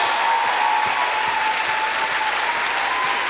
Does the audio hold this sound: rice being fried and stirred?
no